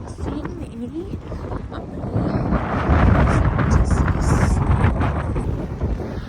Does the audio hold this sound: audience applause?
no